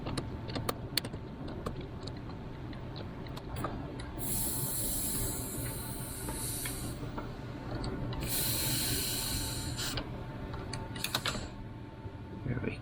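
Compressed air hisses from a cracked air strut line on a Mercedes W212 E-Class 4Matic front suspension, loosened with a 10 mm line wrench, in two sustained bursts between scattered tool clicks and taps.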